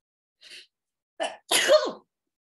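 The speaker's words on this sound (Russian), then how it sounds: "как же я люблю чихать, кайф" A person gives one sharp sneeze: a faint breathy intake, then a short burst and a loud, longer explosive release, heard close and alone.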